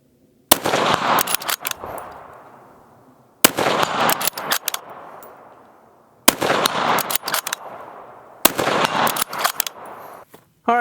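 Rifle shots from a Ruger American in 6.5 Creedmoor striking steel targets: four sharp, loud reports spaced a couple of seconds apart, each followed by a ringing metallic clang and a long decaying echo.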